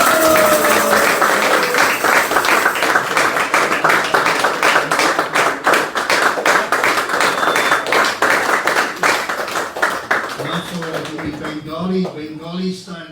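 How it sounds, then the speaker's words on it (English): An audience at a lecture during the Panihati Chida Dahi Festival claps in a dense, continuous burst that gradually thins out. A voice speaks near the end as the applause fades. "Let's give Dhananjaya a big clap for that line"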